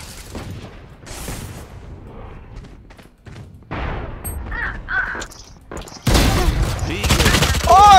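Gunfire and a grenade explosion in a tactical shooter game, scattered shots and clicks building to a loud, sustained burst of blasts near the end, with some voices in between.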